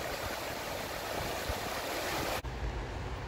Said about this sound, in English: Love the sound of water flowing over the rocks